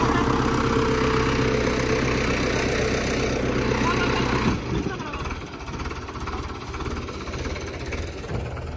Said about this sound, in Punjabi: ਲਓ ਬਾਈ ਦੂਸਰਾ ਟਰੈਕਟਰ ਆ ਗਿਆ